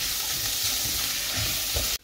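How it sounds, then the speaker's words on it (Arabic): Oil heats in a frying pan before eggplant goes in for a moussaka with minced meat, giving a steady, close sizzle and hiss that cuts off abruptly at the end. "كنديرو الزيت في المقلاة ديالنا باش نخليو الدنجال، نخليوه كيسخن"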